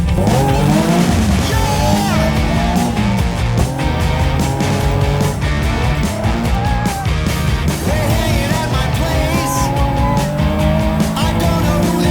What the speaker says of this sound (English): Clutch kick and send it. Drifting sideways in the sunlight